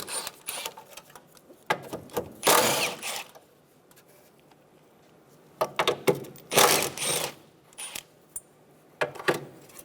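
Ratchet removing 10mm screws from the cowl of a 2007-2012 Nissan Altima, heard as several bursts of close mechanical clicking and rasping separated by quiet pauses.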